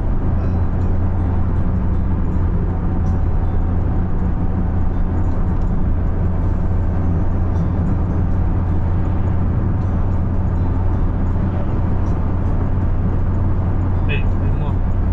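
A car drives along the road from Rasht to Talesh in Gilan, its engine and tyre rumble droning steadily and close throughout while people talk inside.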